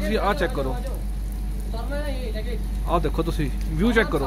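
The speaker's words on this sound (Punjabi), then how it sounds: "ਮੀਂਹ ਪੈ ਰਿਹਾ ਪੂਰਾ, ਪੂਰਾ ਮੀਂਹ ਪੈ ਰਿਹਾ" Heavy rain falls outdoors beside a parked car, a dense, even hiss that lasts throughout while someone talks over it.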